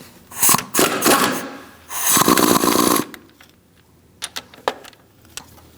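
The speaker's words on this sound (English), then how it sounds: "Now we're going to remove our ground strap just on the top using a 13mm socket." Ratcheting and clanking of a 13mm socket wrench loosening the ground strap nut on top of a 2000-2006 Mini Cooper engine, loud bursts of close metallic ratcheting followed by sparse faint clicks and taps.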